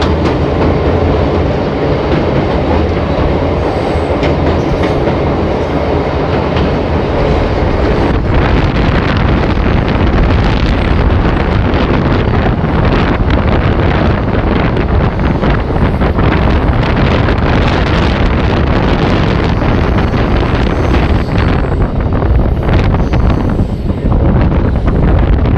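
The 63026 Rampurhat–Azimganj passenger train in India rolls along as it nears Nalhati station, a loud continuous rumble of wheels and carriage noise buffeted by heavy wind gusts on the microphone, with no talk throughout.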